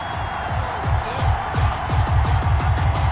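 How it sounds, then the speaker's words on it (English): Stadium crowd in a football video game reacts to a penalty flag with a steady, loud, dense roar of disapproval that holds throughout, with no talk over it. "Well, the crowd doesn't like that."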